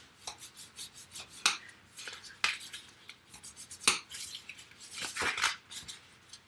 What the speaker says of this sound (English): Burnish all those score lines we just made.